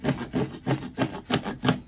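A Harbor Freight hand saw pulls back and forth through a piece of wood in six even, rasping strokes, close and fairly loud, with no voices.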